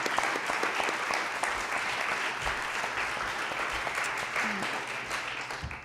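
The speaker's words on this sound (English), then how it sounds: "Can we have a round of applause for everybody for their success?" Audience applause fills a town hall forum on homeless youth, steady dense clapping from a crowd throughout, loud and sustained before tapering slightly at the end.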